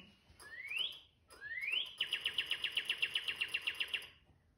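A bird sings nearby: two rising whistled notes followed by a rapid, even series of bright chirps, clear against a quiet background.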